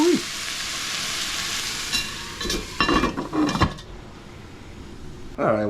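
Onions sizzle and sweat in a pot for a Cajun deer sausage and gravy, a close steady frying hiss broken by stirring and clattering utensil sounds, with a brief voice near the end.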